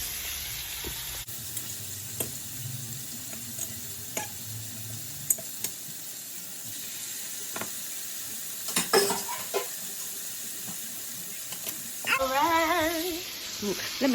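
Food searing in a hot pan, a continuous close sizzle with scattered utensil clicks and scrapes, a brief burst of louder stirring near the end.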